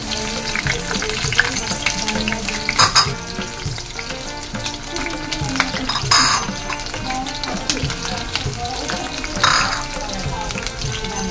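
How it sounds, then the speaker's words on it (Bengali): Chopped garlic and onion hit a little hot oil for chapa shutki bhuna, a Bengali dry fish curry, giving a steady, fairly loud sizzle with a few sharper crackling bursts throughout. "গরম তেলে রসুন কুচি এবং পেঁয়াজ কুচি ছেড়ে দিব।"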